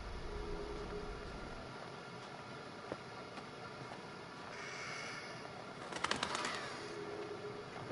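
A bird in the video game Northern Michigan simulator coos softly against a faint, hissy outdoor ambience, with one brief, louder burst near the end.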